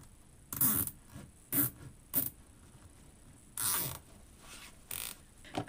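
A chunky zip tie is tightened on a Christmas pancake wreath, making a series of short, quiet ratcheting zips in separate bursts with pauses between them, close by and with no talking.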